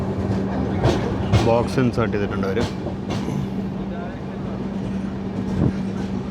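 The 12675 Kovai Express running from MGR Chennai Central toward Coimbatore, heard inside an AC chair car as a steady rumble and hum with a few wheel clacks, while someone talks over it.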